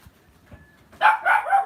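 A dog barks indoors in a quick run of three close yaps after a quiet moment with faint background sounds.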